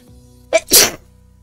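One person sneezes once up close, a short sharp intake followed by a loud burst, with quiet before and after.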